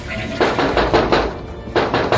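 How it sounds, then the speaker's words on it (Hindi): Loud knocking on a bathroom door at night, two quick bursts of several raps each, close and sharp, with a short pause between and no voices. "जोर जोर से खटखटाते हुए"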